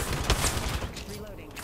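L-Star energy gunfire in Apex Legends 3v3 Arenas, a rapid burst of shots with a sharp crack early on, then fading into a softer tail, mixed with game noise.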